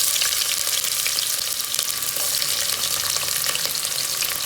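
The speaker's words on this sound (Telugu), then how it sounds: "ఆయిల్ వేడెక్కిందండి, ఉల్లిగడ్డలు వేసుకుందాం." Onions frying in hot oil, a bright, steady hiss of crackling sizzle with dense tiny pops running evenly throughout, close and fairly loud.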